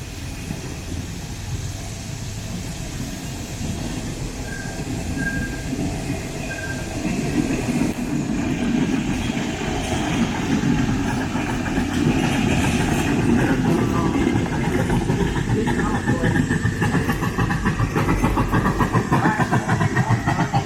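A park excursion train rumbles along the rails, the steady clatter growing louder and denser about a third of the way in and holding there, with a faint squeal of wheels.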